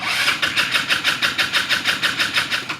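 A moped engine cranks and catches after its battery was trickle charged, then chugs with a fast, rhythmic pulsing idle, loud and close.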